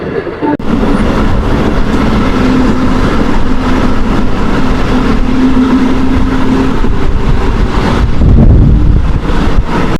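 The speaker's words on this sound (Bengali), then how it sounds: "লোকাল ট্রেন হয়েও কিন্তু বেশ স্পিডেই চলছে" A local passenger train between Bardhaman and Durgapur runs fast through early morning, a loud continuous rumble and rattle of wheels and carriages with wind buffeting, a sustained tone and a heavier clattering burst near the end.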